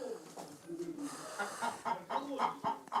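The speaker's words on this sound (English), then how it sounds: "This is where free-range chickens sleep." Free-range chickens cluck in repeated short bursts near their sleeping house in a Russian village yard, the calls steady over a low background.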